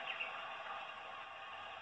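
A babbling brook soundtrack plays from a scrolling landscape picture, a steady, soft, even rush of water that holds unbroken throughout.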